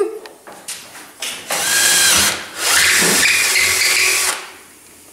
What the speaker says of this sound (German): Ich wurde genötigt, Löcher zu bohren.